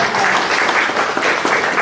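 An audience at a Russian book-industry event claps loudly and continuously, a dense crowd sound that stays close and steady through the whole moment, with no one speaking over it.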